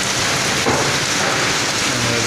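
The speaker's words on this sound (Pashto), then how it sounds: "پکې باران ته وګوره، باران دی" Heavy rain falling during a storm in Ajman, Dubai, a dense steady hiss of drops pouring on surfaces without a break.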